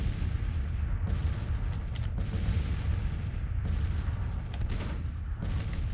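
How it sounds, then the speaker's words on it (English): Counter-battery artillery fire in the Civil War strategy game Grand Tactician, a continuous low rumble broken by repeated distant booming cannon shots at irregular intervals, with no talking. "Counter battery fire, boys, counter battery fire."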